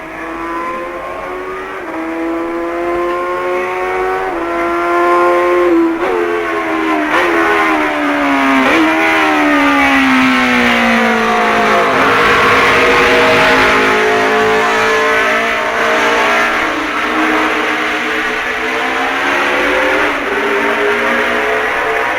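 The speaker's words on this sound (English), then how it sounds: "Halewood leads Woodman by over 2 minutes as he approaches Braddon Bridge" A racing motorcycle engine at full throttle on the Isle of Man TT road course, loud and close, its pitch swooping and falling as it passes, then a sustained high-revving roar with no talk.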